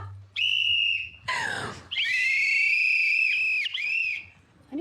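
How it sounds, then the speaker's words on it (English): A whistle blown in sharp shrill bursts, one short toot then a long sustained blast with a brief break, loud and close with a faint rustle between. "Where's my whistle?"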